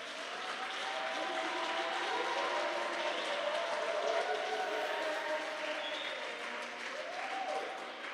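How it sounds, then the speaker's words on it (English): Audience applause for the youth of Northern Cape at a youth weekend event, a steady wash of clapping from a crowd, sustained and fairly distant, with a faint voice over it. "I want you to give a thanks, a greatest applause to the youth of Northern Cape,"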